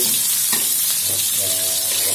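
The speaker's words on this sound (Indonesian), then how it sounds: "bawang merah, bawang putih, itu digoreng" Shallots, garlic and chili frying in a pan, a loud continuous sizzle broken by scraping stirs and a faint tonal hum toward the end, with no speech over it.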